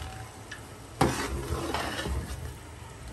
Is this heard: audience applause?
no